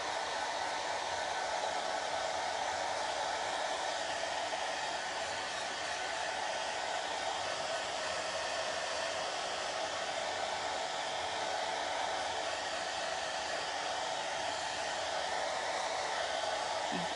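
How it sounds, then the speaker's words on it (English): A handheld hair dryer on its cool setting blows steadily, a loud, even rushing hiss that runs unbroken from start to finish at close range, with no talking. "I'm taking my blow dryer, but I'm using the cool setting. I'm just gonna dry it"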